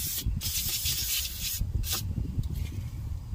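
Brake cleaner sprayed onto the brakes of a 2014 Chevy Equinox during a pad and rotor replacement, short close bursts of hissing aerosol over a rustling background.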